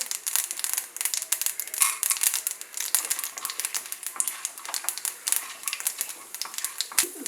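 Mustard seeds spluttering and popping in a small amount of hot oil, a dense run of close, crackling snaps with scattered sharper pops, heard alone.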